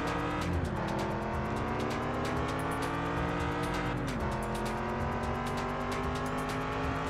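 Racing car in the Test Drive Unlimited video game on PS2, its engine droning steadily with two upshift dips and rising revs, accompanied by faint tire noise, loud and continuous with no talk.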